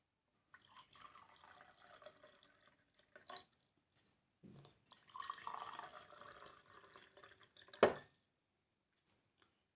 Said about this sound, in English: So in 3 glasses I take water.